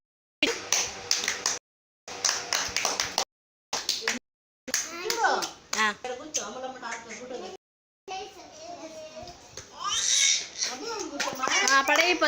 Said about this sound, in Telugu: క్లాప్స్ కొట్టు విని